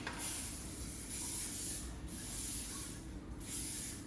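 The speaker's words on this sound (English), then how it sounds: "I need you to spray the pan evenly, and that's so everything don't stick." Cooking spray hissing onto a baking pan for rice krispie treats, three steady close bursts in a row with brief gaps, no talking.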